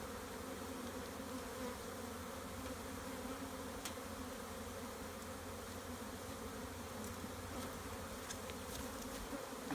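Bees from a wild colony hum around a flow hive, a dense, continuous buzz held at an even level with occasional individual insects flitting closer, no voices.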